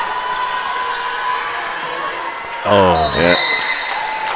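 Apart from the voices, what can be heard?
crowd cheering and applause at girls' volleyball game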